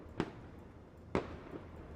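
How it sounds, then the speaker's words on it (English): Fireworks-style blasts in the video game Space Engineers: two sharp, quiet pops about a second apart, then a fainter third, over a low steady background with no speech. "Have some fireworks, my friend."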